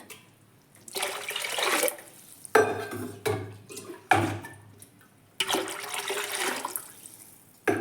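Water is poured from a vessel into a cooking pot in a home kitchen, arriving in several separate gushes with short pauses between them, close and fairly loud, with no talking.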